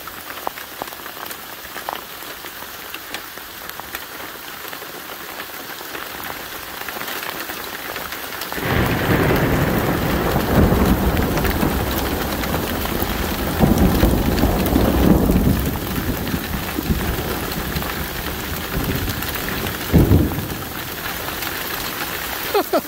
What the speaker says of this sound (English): There's hail, a lot of it.